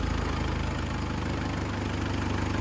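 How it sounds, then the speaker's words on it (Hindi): Turbocharged engine of a modified off-road Mahindra Thar with its turbo timing out and not yet mapped, idling steadily at close range with an even, rumbling pulse and no talk. "बट टर्बो तो चल रहा है, आवाज तो आ रही है"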